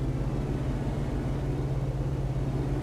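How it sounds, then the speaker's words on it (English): A steady low engine drone hums continuously at a constant pitch, with no voices, from a 2017 Ford Raptor in the game American Truck Simulator. "other than the droning sound, it's a pretty cool vehicle"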